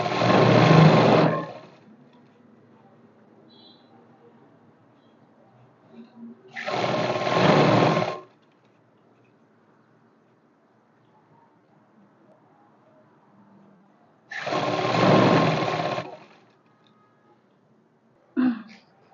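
A sewing machine stitches a belt onto a salwar in three loud whirring bursts of about two seconds each, separated by long quiet pauses, with a brief fourth start at the very end.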